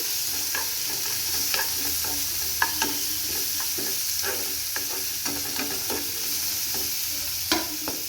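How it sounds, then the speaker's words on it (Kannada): Curry leaves fry in hot oil with spluttered mustard seeds and cumin, a continuous sizzle broken by frequent quick spatula taps and scrapes against the pan, close and steady, with no talking. "ಸಾಸಿವೆ ಜೀರಿಗೆ ಚಟಪಟ ಅಂದಿದೆ. ಕರಿಬೇವು ಇದು ಫ್ರೈ ಆಗಲಿ."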